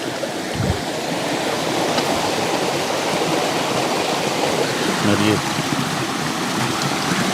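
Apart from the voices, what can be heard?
forest waterfall near a village water source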